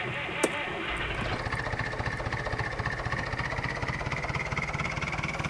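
A tractor engine in Farming Simulator 2011 starts with a short click, then settles into a steady, rhythmic chugging idle with a regular low pulse, close and moderately loud, alone without talk.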